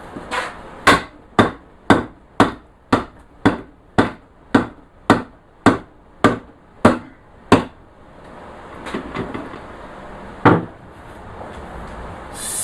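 A hammer strikes a 1925 Ford Model T transmission in a rapid, even series of about thirteen sharp metallic whacks, then a pause with faint shuffling and one last hard blow, loud and close.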